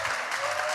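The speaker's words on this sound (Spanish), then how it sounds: "un aplauso." Audience applause fills the room at a social enterprise awards ceremony and project presentation, a dense, steady patter of many hands clapping throughout.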